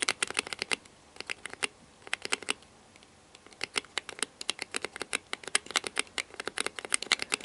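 Rapid clicky gaming keyboard keys tapped in quick irregular bursts, close and crisp, with a brief pause partway through.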